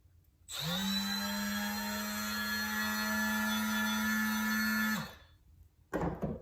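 A Milwaukee M12 orbital detail sander starts up and runs with a steady high whine for about four and a half seconds, then spins down, followed by a brief handling noise.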